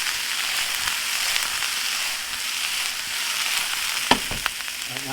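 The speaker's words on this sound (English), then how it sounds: "Now we're going to go ahead and saute it just a little bit more." Roasted garlic sautéing in a pan gives a steady, close sizzle throughout, with a couple of sharp utensil clicks and scrapes near the end.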